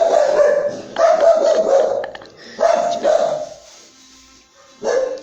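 Small dogs bark in a run of close, loud yapping bursts, then pause briefly before one more burst near the end.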